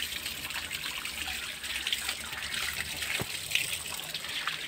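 Water flows steadily from a newly repaired house pipe, a continuous hissing trickle heard close, with a faint knock partway through.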